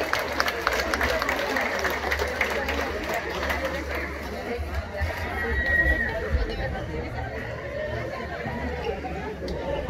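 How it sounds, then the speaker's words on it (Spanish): A festival crowd at the coronation of a patron saint festival queen in San Juan Mixtepec claps and chatters, scattered applause mixed into a steady hubbub of voices, with a loudspeaker voice talking over it. "fuerte los aplausos para Shunashi Montserrat"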